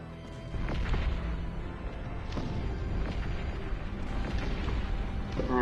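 Rumbling booms of cannon fire in the video game Cossacks: Art of War roll out over a dense, noisy battle din, several blasts spaced a second or so apart.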